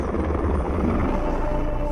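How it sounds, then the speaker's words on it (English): A rescue helicopter's steady rotor thrum fills the clip on Mount Everest after the April 2025 earthquake, loud and continuous, with a constant low engine drone. "It's 24 hours before we see our first helicopter."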